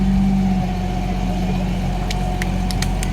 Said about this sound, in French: C'est le plus gros bruit des moteurs américains, c'est le GMC 6 cylindres quand il est bien réglé.